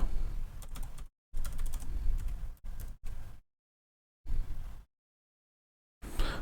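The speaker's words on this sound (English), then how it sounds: "And here you want to type in your password." Close computer keyboard typing in several short bursts of rapid key taps, separated by stretches of silence.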